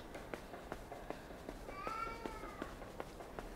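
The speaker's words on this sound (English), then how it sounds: "I'm gonna have to do something about that noisy ass kitty cat" A cat gives a single faint, drawn-out meow partway through, half lost among soft rhythmic footsteps and quiet background noise.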